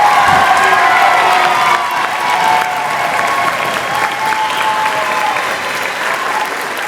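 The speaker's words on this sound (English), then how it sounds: "So one more round of applause for our 8th grade Student of the Year." Loud, sustained applause and cheering from an audience fill a school hall after a student award at a middle school spring band concert, with scattered shouts from children.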